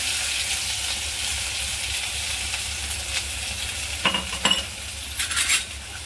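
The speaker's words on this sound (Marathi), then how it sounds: "आणि चांगलं मिक्स करायचं, जळून नाही द्यायचं जास्त." Curry leaves, asafoetida, crushed green chilli, garlic and ginger stirred in hot oil, a steady close sizzle with occasional scraping clinks of a spoon against the pan toward the end.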